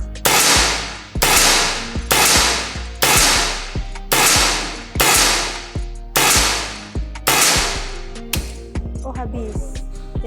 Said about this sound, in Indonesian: kita akan coba untuk tembakan pertama